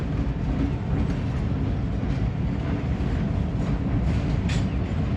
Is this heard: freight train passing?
yes